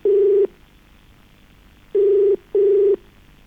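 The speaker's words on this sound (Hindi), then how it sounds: "तो चलिए फोन लगाते हैं अपने अगले कॉलर को" A telephone line tone sounds during a call dialed out on a television phone-in farming show: three steady electronic beeps, the first alone, then two close together after a pause, loud and clear with no talk.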